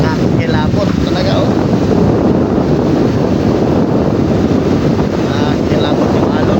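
Strong sea waves and gusting wind around a small boat at sea, a loud constant rush of water and wind buffeting the microphone with no break.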